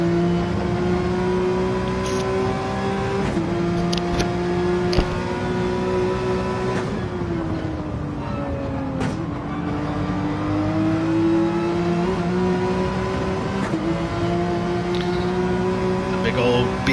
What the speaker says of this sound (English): The big old BMW chugging away.